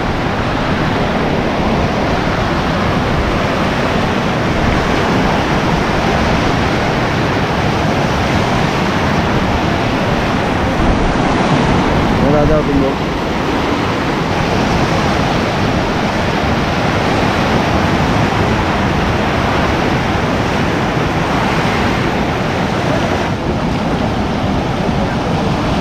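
Floodwaters of the swollen Shivnath river near Bhilai, Durg, surging during heavy monsoon rain, give a loud, steady, unbroken roar of rushing water with wind buffeting the microphone throughout.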